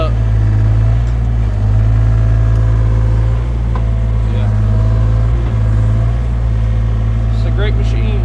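Huayee HY35C mini excavator engine running at raised idle, a loud steady low drone with slight dips, and a voice talks over it.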